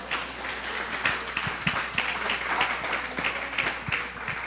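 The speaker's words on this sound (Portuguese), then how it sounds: "Uma salva de palmas ao Senhor." A church congregation applauding together, a steady, dense wash of clapping that holds evenly for several seconds with no voices over it.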